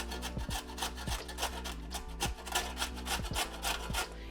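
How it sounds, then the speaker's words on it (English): A carrot is rubbed on the larger side of a box grater in quick rasping strokes, about two per second, close and clear, with no talking. "take the grater on this larger side and just carefully grate my carrot"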